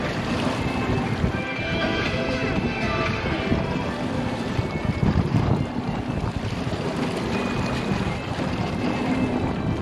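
A boat engine at low idle and beginning to stall while the boat points into waves offshore, a steady low rumble mixed with wind buffeting the microphone and water wash throughout, no voices.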